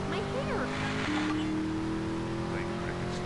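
Car engine running in Grand Theft Auto: Vice City on PS4, a steady, fairly quiet hum with a shift in pitch partway through, under a voice talking in Portuguese.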